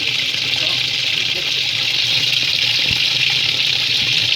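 Water gushes steadily into a washing machine drum on a cold medium fill, a continuous loud rush with a low hum beneath, nearby and without a break.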